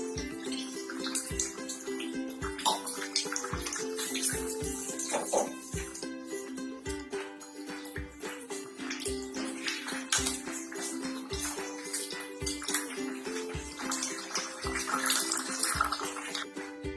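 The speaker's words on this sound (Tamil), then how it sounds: "அதுக்கு கொஞ்சம் 1/2 டம்ளர் தண்ணி ஊற்றிக்கலாம்." Water poured into a roadside-style parotta salna curry made with coconut and gram flour, a steady trickling, splashing pour that runs continuously at moderate level, with a faint background hum and some clinking.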